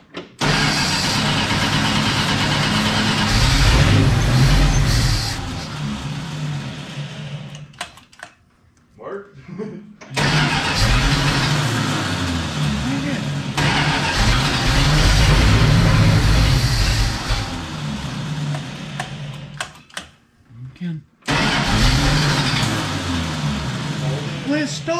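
A 1970 Dodge D-100 Sweptline pickup with a Mopar 318 V8, fed carburetor cleaner, cranks and runs in loud, sustained bursts separated by brief pauses, with engine noise filling most of the stretch.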